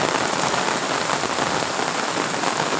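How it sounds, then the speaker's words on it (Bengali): Heavy rain pours down in a dense, steady hiss of drops hitting surfaces. The downpour is loud and continuous, with no break. "এত বৃষ্টিতে কি দেখুন প্রচুর পরিমাণে বৃষ্টি নামছে।"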